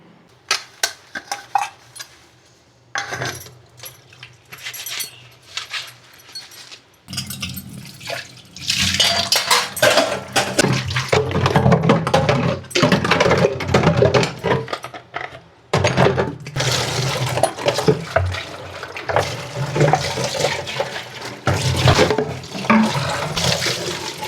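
Water pours and gurgles into bottles in long stretches, with clinks and knocks of glass or plastic between fills.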